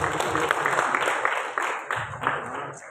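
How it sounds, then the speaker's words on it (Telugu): Crowd applause and clapping at a song launch event for the Telugu film Hari Hara Veera Mallu, a steady wash of many hands from a large audience under a voice on a loudspeaker. "అందరూ ఒకసారి క్లాప్స్ కొట్టాలి"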